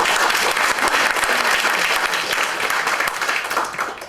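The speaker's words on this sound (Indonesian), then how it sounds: "Tepuk tangan buat 5 orang ini." A seated audience at an agency leaders' meeting applauds five people, steady dense clapping filling the room at full volume from start to finish and easing slightly at the end.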